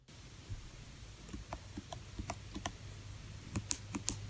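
MacBook keyboard keys clicking in an irregular series of light, close taps, starting with the shift key then caps lock, some sharper and louder toward the end, with no talking.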